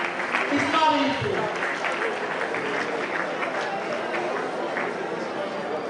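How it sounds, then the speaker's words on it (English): Students clap together in a classroom, a steady burst of applause with a voice briefly audible at the start, holding at an even level throughout. "A round of applause for my students."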